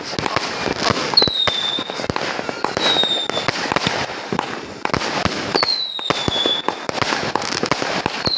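New Year 2568 fireworks, including 4-inch and 6-inch color shells, burst again and again over a dense crackling backdrop, with sharp bangs and a few whistling rockets rising and falling in pitch.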